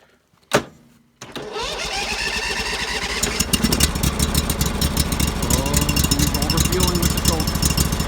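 A small engine starts with a sharp burst after a brief pause, then settles into a steady, loud running drone with the choke on, slightly rough and overfueled, continuing without pause.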